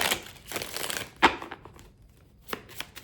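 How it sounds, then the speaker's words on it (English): A deck of tarot cards is shuffled up close: a few quiet, crisp riffling and flicking bursts with short pauses between them. "Let me just shuffle one more time."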